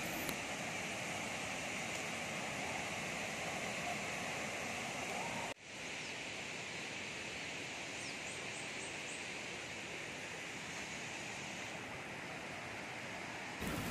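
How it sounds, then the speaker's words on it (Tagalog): Steady roar of Tinuy-an Falls, a waterfall in Bislig, Surigao del Sur, pouring down continuously as dense broadband rushing noise, loud and unbroken throughout, with a brief dip midway. "Nakikita niyo ba yung waterfalls na yan sa taas?"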